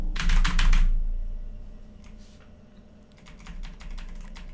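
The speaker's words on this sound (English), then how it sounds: "Mechanical keyboard." Mechanical keyboard keys clatter in a quick, loud burst of close-up typing. Sparser, softer keystrokes follow, with no voices.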